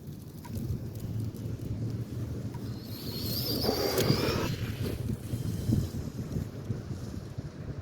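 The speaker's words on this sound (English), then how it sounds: "Yo, this wind, man." Outdoor wind buffets the microphone in a steady low rumble that swells in the middle of the stretch, with a faint high whine and hiss passing briefly above it; no talking.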